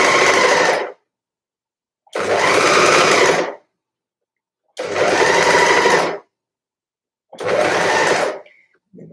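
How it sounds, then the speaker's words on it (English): Overlocker sewing a sweater seam, four loud close bursts of fast whirring stitching, each a second or two long, separated by silent pauses. "I'll just continue to overlock off"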